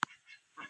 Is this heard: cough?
no